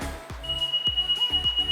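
A Viper remote start system in a car gives a loud, sustained electronic beep tone after the driver exits, steady and close over faint background rumble.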